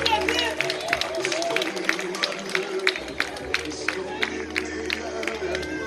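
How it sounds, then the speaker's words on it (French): An audience at a Haitian church ceremony claps with rhythmic, sharp beats over crowd murmur and a voice, while background music hums beneath. "applaudissez pour moi s'il vous plaît"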